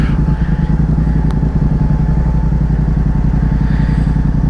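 A motorcycle engine runs close by with a loud, steady throbbing putter, its pulses evenly spaced and holding the same pace throughout.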